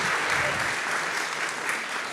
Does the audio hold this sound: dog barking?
no